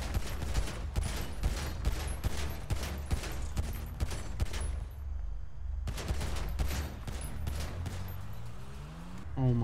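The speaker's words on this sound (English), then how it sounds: "Shoot him, cunts!" Gunfire in GTA RP, loud rapid bursts of shots packed densely together for several seconds, a brief pause, then more close gunfire as a car engine rises at the end.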